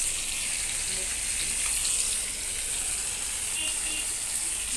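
Chopped ingredients fry in a pan, giving a constant, moderately loud hiss and sizzle with no clear breaks.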